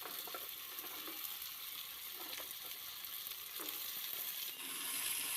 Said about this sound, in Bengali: এবার এর মধ্যে দিয়ে দিচ্ছি কেটে রাখা সজনের ডাঁটা।